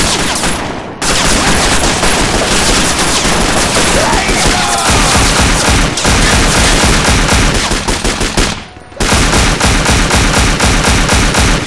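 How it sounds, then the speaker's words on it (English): Sustained automatic gunfire from Scarface: The World is Yours, loud and dense bursts of rapid shots with two brief pauses, no talk. "Why are you shooting?"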